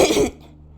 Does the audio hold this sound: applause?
no